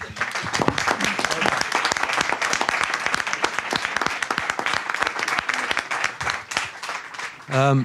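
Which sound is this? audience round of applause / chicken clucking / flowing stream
audience round of applause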